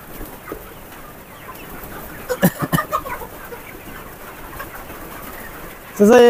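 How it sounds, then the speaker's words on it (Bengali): Colour bird chickens on a poultry farm give a few short clucking calls mid-way, then a louder, close burst of calls at the end over a steady background hum of the flock. "মুরগি কিন্তু দেখতেছে ভালো অ্যাক্টিভ আছে, মানে চালু আছে"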